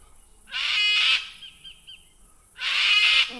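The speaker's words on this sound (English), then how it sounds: "I think I'm just going to have to compete with those squawking cockatoos." Cockatoos near a fishing and yabbying spot give two loud, harsh squawks about two seconds apart, close by, with quiet between the calls.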